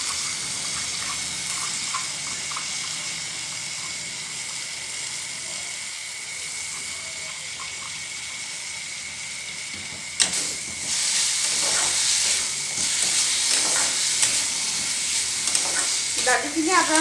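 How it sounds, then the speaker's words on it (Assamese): Lentils tip into a pan of fried spices on a low flame, starting a soft steady sizzle with scraping stirs, then a sudden louder burst of frying as they land, sputtering on unevenly. "এতিয়া মই ইয়াতে দালিখিনি ঢালি দিম।"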